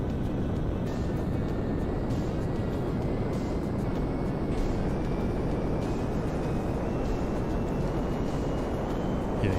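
A video game jet engine spools up and holds a loud, steady roar with broad rumbling noise, nearly unchanged throughout with no talking.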